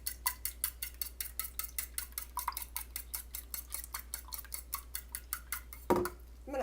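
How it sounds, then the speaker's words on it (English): Six eggs being whisked in a bowl, a steady rapid clatter of the whisk striking the sides, even and close, ending in a louder knock and scrape. "Let's whisk that up. I've got 6 eggs in here."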